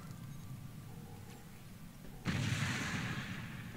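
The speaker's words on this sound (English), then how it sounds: "I do love the explosion sound" An explosion in the Star Trek Online video game during a ground assault, a sudden loud broadband blast that breaks in over quieter background game noise and keeps rumbling to the end.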